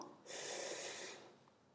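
A single deep, audible breath during a yoga exercise, a slow airy exhale or inhale that swells and fades over about a second against a quiet room, with no speech.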